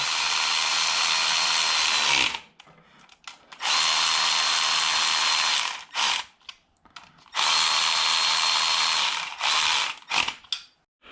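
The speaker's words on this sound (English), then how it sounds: "I'm going to use this Milwaukee gun just to spin them in, but not tighten them" Milwaukee power gun spins header bolts in on a car engine in three loud, sustained whirring bursts of about two seconds each, separated by brief quiet gaps with faint clicks and handling noise.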